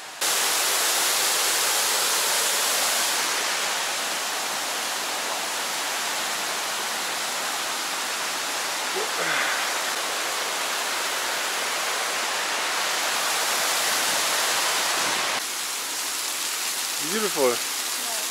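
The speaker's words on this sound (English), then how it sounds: "It's raining." Steady rain hisses continuously, loud and close, in an old town in Croatia, with a short spoken remark and a few faint bird chirps late on.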